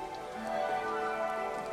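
Steady rain falls in the video game Lumberjack's Dynasty, a continuous wash of patter at moderate level that holds evenly across the whole short stretch, with no voices over it.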